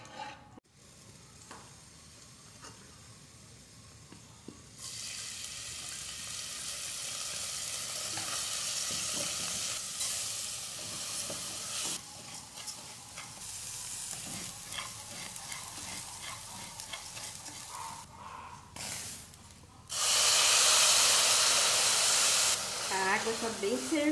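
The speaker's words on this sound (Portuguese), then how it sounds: "Agora vou deixar ferver." Beans bubble and hiss in a pot on a hot stove, a continuous simmering sizzle that grows louder toward the end, with a voice speaking over it.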